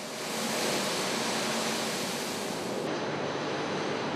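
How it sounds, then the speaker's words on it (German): Water sprays steadily onto a forged steel drive shaft to cool it, a dense, loud, unbroken hiss that stays even throughout and thins slightly near the end. "24 Stunden lang wird diese Antriebswelle mit Wasser besprüht."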